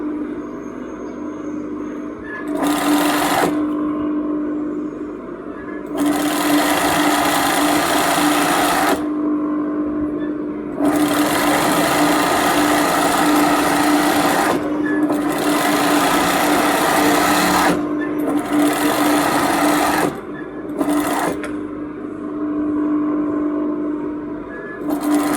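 A sewing machine stitches fabric in several loud, close mechanical runs of whirring, rapid needle clatter, each lasting a few seconds and separated by short pauses with a low background hum.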